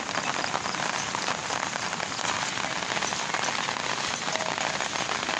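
Steady, loud rain falls without pause during a flood in Laos, a dense close hiss of drops on surfaces with no voices.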